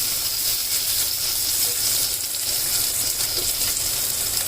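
Mint leaves fry in oil for an ash gourd and sweet potato pulusu, giving a steady, dense sizzling hiss that stays even from start to finish. No one speaks.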